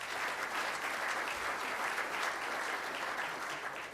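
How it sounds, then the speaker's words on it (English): A Rotary Club luncheon audience gives a steady round of applause, a dense, even clatter of clapping at moderate distance with no talking. "Let's give them a round of applause."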